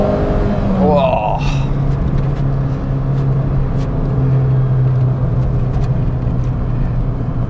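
A Fiat Punto HGT engine revs with a short sharp rise and fall, then settles into a steady low idle hum, close and loud, with a voice briefly heard near the start.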